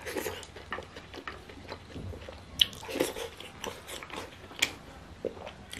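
Someone eating shepherd's purse dumplings up close, with soft irregular chewing and wet biting sounds and a few sharper crunchy clicks, no talking.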